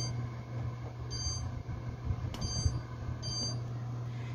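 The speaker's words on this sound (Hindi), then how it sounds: "मैंने इसको पे टाइमर सेट कर देती हूँ।" An oven timer being set while cooking chicken shawarma, giving a few short, high electronic beeps spaced about a second apart over a low, steady appliance hum.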